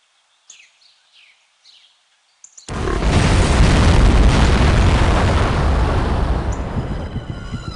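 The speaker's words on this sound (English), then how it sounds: "there was an explosion of unknown origin in the town of Shilling" Explosion in the spy video game No One Lives Forever, a sudden loud blast after a few faint chirps that turns into a long, sustained roaring rumble and slowly fades.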